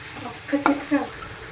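A spoon stirs chili powder, coriander and fenugreek leaves into an aloo kurma potato curry in a pan, giving a couple of short scraping, sizzling strokes close by with no talk.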